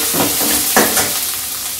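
A small amount of ginger sautéing in hot oil with a couple of dried red chillies for coriander mango rice gives a steady, close sizzle, with a brief stirring scrape partway through.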